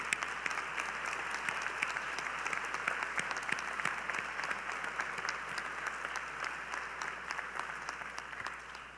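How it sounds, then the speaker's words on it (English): At the 2018 St. Bonaventure University commencement, a large audience applauds the graduates' families with a dense, steady roar of clapping that holds evenly throughout, with no speech. "If you would please stand and give your families a round of applause."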